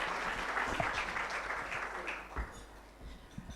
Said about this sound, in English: Let's give a round of applause to him as he gives us his remarks.